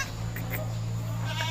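A few faint goat bleats sound at a distance over a steady low hum, short and scattered across a brief stretch.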